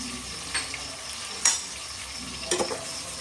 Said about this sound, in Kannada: ಈಗಾಗಲೇ ತೊಗೊಂಡಿರೋ ಜಿಂಜರ್ ಗಾರ್ಲಿಕ್ ಪೇಸ್ಟ್ನ ಇದ್ರೊಳಗೆ ಹಾಕೋಬೇಕು.